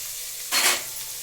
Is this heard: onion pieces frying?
yes